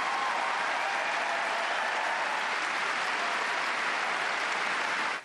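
Sustained ovation from a tennis crowd at Wimbledon, a thick, even roar of many hands clapping that holds at constant loudness before cutting off at the end.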